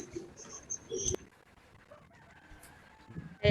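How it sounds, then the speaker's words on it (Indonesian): A rooster crowing and clucking in the background at a home during an online class session, faint and somewhat distant, with a couple of short calls amid quiet room noise. "Kalau saya di rumah itu sering diganggu ayam berkokok gini."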